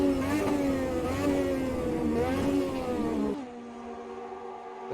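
Lotus 98T Formula 1 car engine in a sim racing game, a loud, continuous revving whine that dips on an upshift and settles into a steady lower drone.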